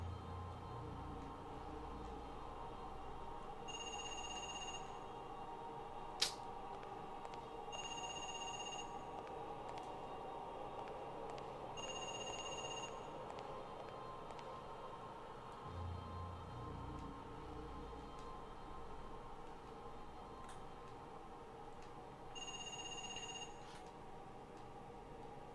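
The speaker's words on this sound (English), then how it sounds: "Answer the fucking phone!" A telephone rings in the survival horror video game Parasite Eve 2, sounding in four short electronic bursts spaced several seconds apart over a low ambient hum, with a single sharp click partway through.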